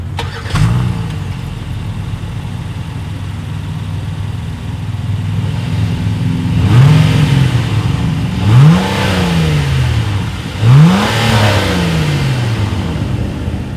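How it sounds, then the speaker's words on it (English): A 2020 Acura TLX six-cylinder engine idles with a low exhaust rumble, then revs sharply three times, each rise and fall clearly audible, loud and close. "As always, here is that exhaust clip."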